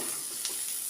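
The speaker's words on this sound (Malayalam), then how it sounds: "ഉള്ളി വഴറ്റി വന്നിട്ടുണ്ട്" Onions sautéing in a pan for a chicken vegetable soup, a steady close sizzle and hiss with faint stirring crackles throughout.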